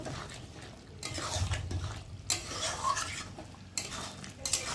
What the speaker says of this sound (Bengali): গরম মশলা চিনিটা একটু ভালো করে নেড়ে নেব